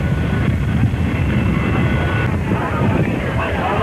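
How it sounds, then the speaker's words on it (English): A large jet airliner approaches at a Dallas airport in 1963, a loud, steady broadband roar filling the scene without letting up, with crowd noise mixed in. "Next big jet approaches."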